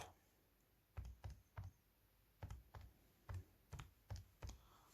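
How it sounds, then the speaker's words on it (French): Keys pressed on a calculator, about a dozen light plastic taps in small irregular clusters, close and quiet against a faint background hiss. "calculatrice, on tape le début, on tape"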